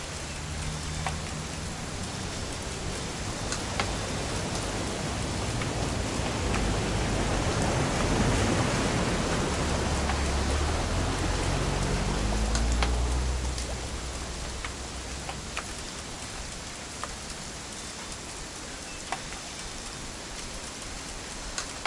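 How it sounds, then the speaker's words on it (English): Steady rain falls throughout, a dense hiss of drops on surfaces that swells louder in the middle before easing back, with occasional sharper drips and no voices. "It's gonna rain the whole weekend,"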